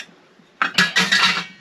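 Dishes and cutlery being put into a sink in a caravan kitchen, several close, bright clattering clinks in quick succession after a brief quiet start, with no talk.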